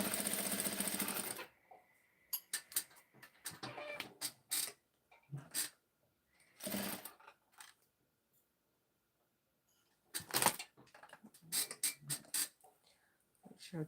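A sewing machine stitches a handmade garment from thrifted materials, with a long steady run at the start and then short bursts of stitching broken by pauses and small handling noises.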